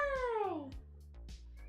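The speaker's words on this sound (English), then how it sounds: "Oh, she's a nice kitty." A pet cat gives a clear, close meow that slides downward in pitch, followed by a couple of faint soft sounds, with no talking over it.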